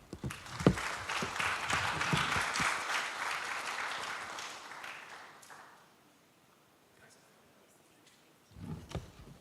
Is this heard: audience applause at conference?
yes